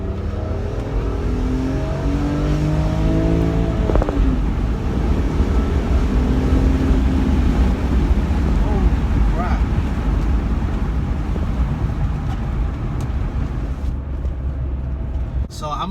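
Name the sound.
car accelerating hard after dropping a gear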